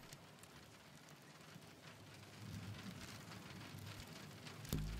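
Steady rain falls in the puzzle game The Pedestrian, a constant close hiss of drops that swells slightly midway, with a sharp thump near the end.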